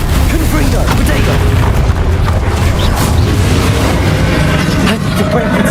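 A Confringo fire-blast spell in a Hogwarts Legacy duel produces loud, continuous booming and rumbling explosions that stay close and dense throughout, with a voice speaking over the din.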